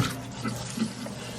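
Tap water runs into a cooking pot being half filled for a seafood boil, a steady close rushing splash for the whole moment.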